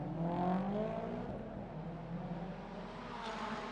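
A Subaru race car accelerates toward the Macau hairpin during free practice at the Macau Grand Prix 70th anniversary challenge, its engine a loud, steady droning whine with shifting pitch that holds throughout.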